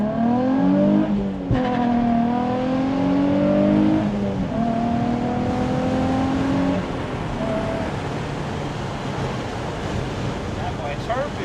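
Base-model car accelerating hard with no traction control, with a loud engine rising through the revs and a tire chirp. Wind rush follows, and a voice can be heard over the noise.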